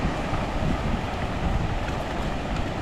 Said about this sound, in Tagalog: Mahangin ko.